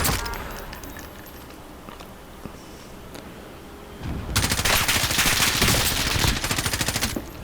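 Rapid automatic gunfire in the video game Call of Duty: Warzone bursts in after a quieter stretch and keeps going as a loud, dense stream of shots through the second half, with no talking.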